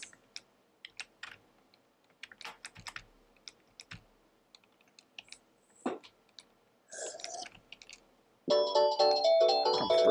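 A phone ringtone chimes loudly for the last couple of seconds, arriving after scattered keyboard typing and clicks in a quiet room during a Minecraft modded play session.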